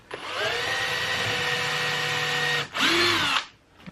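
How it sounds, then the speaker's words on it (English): A power drill pre-drills a screw hole in wood in a workshop, whining loudly and steadily for over two seconds, then stopping briefly before a second shorter burst, close up with no talk. "I pre-drill a screw location here."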